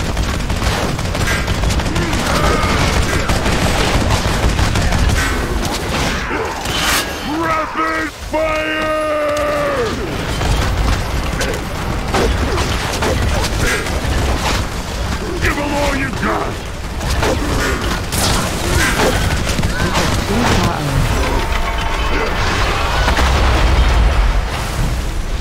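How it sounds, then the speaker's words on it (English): Rapid Fire gunfire ability in World of Warcraft, a dense run of fast shots, bursts and booms running continuously at high volume. In-game voices and combat effects are layered over it throughout. "Rapid fire!"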